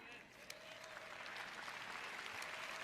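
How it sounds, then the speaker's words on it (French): Soft, muted applause from a sermon audience in a large hall, a sustained diffuse patter that grows slightly over a few seconds. "Vous voyez quand vous applaudissez ces applaudissements mous."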